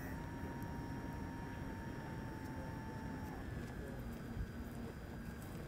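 RC Cessna 182 model airplane coming in to land with gear down and flaps set, a steady droning motor with a high whine that drops in pitch as it slows, continuous and moderately distant.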